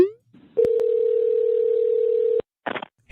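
A continuous telephone dial tone sounds for nearly two seconds as a call is being placed. It is preceded by brief clicks and followed by a short burst of noise, with no talk over it.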